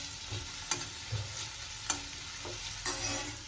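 Food frying gently in a pan on low flame with a soft sizzle, punctuated by occasional spatula stirs and scrapes at irregular intervals, fairly quiet and close.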